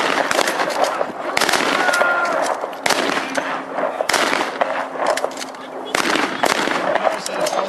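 Section rifle cover fire at a Vimy 100 re-enactment at Fort York: loud, close blank shots cracking out every second or so in a ragged rhythm, with voices in the background between volleys.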